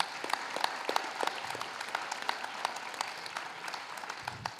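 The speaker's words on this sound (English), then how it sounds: "So let's give them a round of applause as well." A round of applause from an audience at a student climate art competition panel, a steady wash of many hands clapping, moderately distant and soft, with no talking over it.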